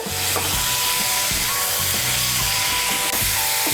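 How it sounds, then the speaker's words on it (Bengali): Potatoes fry with spices in a pan, giving a steady, close, dense sizzle that runs without a break. Faint tonal music sits underneath the frying. "মিশিয়ে নিয়ে আর একটু আলুটাকে ভেজে নেব"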